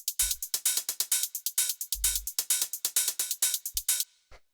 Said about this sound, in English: these are the hi-hats